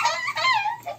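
A German Shepherd puppy whimpers and whines in high, wavering cries, close by, in a short burst with a brief pause before a final whine.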